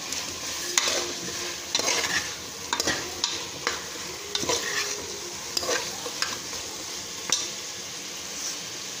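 Aubergine and drumstick fry in a pan while a spoon stirs them, a steady close sizzle broken by repeated clanks and scrapes of the spoon against the metal.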